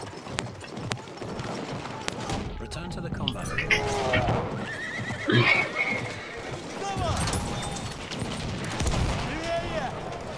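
A horse neighs amid a busy video game battle, with scattered gunfire and people talking over the noise throughout.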